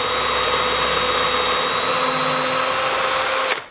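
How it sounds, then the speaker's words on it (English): Power drill boring into a model railway frame, a loud steady whine held for about three and a half seconds before stopping abruptly. "So we're going to drill in."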